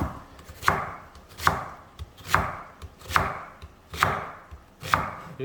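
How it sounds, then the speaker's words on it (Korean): A knife slices a halved onion on a cutting board in six evenly spaced, crisp thuds, each a close, sharp chop separated by a short gap of quiet, with nobody talking. "자, 우선 양파를 썰게요."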